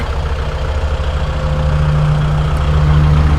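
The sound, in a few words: Kubota L5018SP tractor engine running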